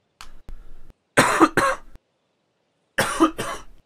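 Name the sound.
cough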